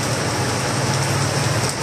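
Heavy rain pours steadily outdoors, a dense, loud, unbroken hiss of water with a low rumbling undertone and no voices.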